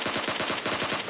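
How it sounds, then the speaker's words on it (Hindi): Rapid automatic gunfire from PUBG Mobile Lite, a dense continuous burst of evenly spaced shots, loud and without talk. "एक दफ़े वो फायरिंग करता"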